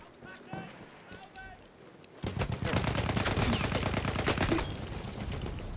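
Gunfire in Battlefield 1: scattered faint shots with a voice nearby, then from about two seconds in a dense, rapid burst of loud shots that tapers slightly toward the end.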